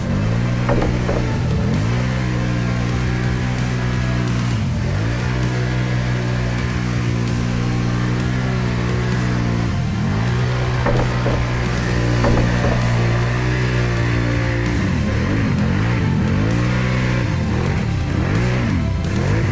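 A Can-Am Renegade 1000 XMR ATV pushes through a thick mud hole, its engine droning loud and steady with repeated rev surges and dips as the tires churn, close and continuous with no talk.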